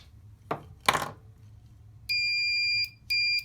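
A loud electronic buzzer on a quiz paddle sounds twice, a long steady tone then a shorter one, following a couple of soft knocks.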